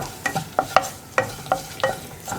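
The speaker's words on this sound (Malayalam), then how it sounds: "പിന്നെ പൊടികളൊന്ന് കുക്കായി വരുന്നത് വരെ 1 മിനിറ്റ് ഒന്ന് ഇളക്കി കൊടുക്കുക." Kashmiri chilli powder and other ground spices frying in a pan while being stirred, six or seven sharp scraping strokes over a soft sizzle, close and clear with no talking.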